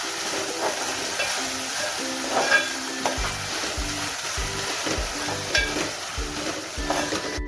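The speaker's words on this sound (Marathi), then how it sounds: "बारीक चिरलेला टोमॅटो मी ऍड करते याच्यामध्ये. छान परतवून घेणार तेलामध्ये." Finely chopped tomato sautés in oil, a continuous crackling sizzle close by, with repeated rhythmic stirring scrapes of a spoon against the pan and no speech.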